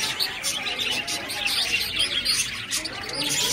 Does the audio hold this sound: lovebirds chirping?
yes